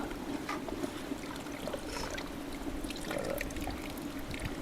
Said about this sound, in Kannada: ಈಗ ಒಂದು ಕುದಿ ಬಂದಿದೆ, ಅಕ್ಕಿ ಹಾಕ್ತಾಯಿದ್ದೀವಿ.